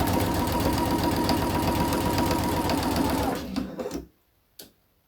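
A home sewing machine runs steadily, stitching a jacket seam at 2.5 mm stitch length from a Lutterloh pattern, with a continuous loud whirring drone for over three seconds before it slows, stops, and one faint click follows.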